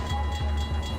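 A train from the video game Half-Life 2 runs with a steady, loud mechanical rumble and tonal whine, pulsing in a regular rolling rhythm over a short stretch.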